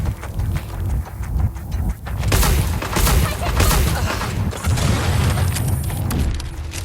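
Gunfire in Watch Dogs: Legion: bursts of shots and booming impacts crackle loudly over several seconds amid dense game noise, with a faint voice underneath.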